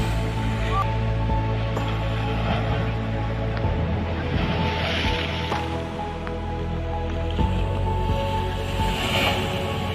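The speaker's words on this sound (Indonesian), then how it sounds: "Wah, ombaknya gede guys." Big ocean waves crash on the shore at Pantai Pelangi beach in Pidie, Aceh, a continuous, full roar of surf with rolling swells and no voices.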